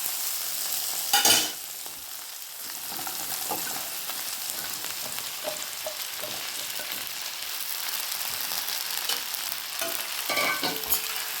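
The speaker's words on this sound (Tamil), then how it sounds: "இப்போ கட் பண்ணி வச்ச வெண்டைக்காவை சேர்த்துக்கலாம்" Cut okra sizzles in a pan with onion and tomato while being stirred, a steady loud frying hiss with scattered light scrapes and one sharp clatter early on.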